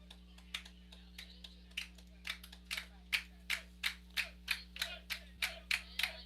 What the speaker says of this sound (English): Eagles cheering on their pitcher